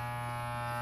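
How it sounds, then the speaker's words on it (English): An electric shaver buzzing steadily and close by, used for cutting hair over a sink, a constant drone with no pauses in a short burst. "The cat's not even afraid of the shaver here."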